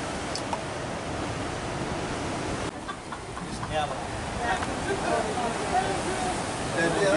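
Strong ocean surf at Timang Beach, Indonesia, makes a steady, loud roar of crashing water that runs unbroken through the whole stretch, with a brief dip partway before the rush builds again.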